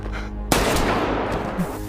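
Gunfire in a Squid Game film scene: a sudden loud burst breaks in after a quieter opening and then continues as sustained rapid shooting, with no speech over it.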